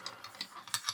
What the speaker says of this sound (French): il suffit de dévisser sur le côté